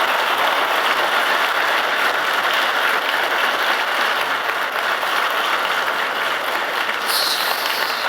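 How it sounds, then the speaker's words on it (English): An audience at a public policy talk applauds Ricardo Hausmann, a dense, sustained clapping that fills the room evenly from start to finish without any voices. "So please join me in giving a round of applause to Ricardo Hausmann."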